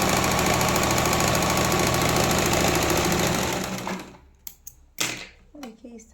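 A sewing machine runs steadily, stitching a fabric strip around the hem of flared palazzo pants, its rapid mechanical whir continuous and close for about four seconds before stopping, followed by brief handling clicks and fabric rustles.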